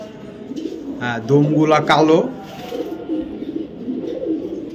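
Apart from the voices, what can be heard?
pigeons cooing at a pigeon sale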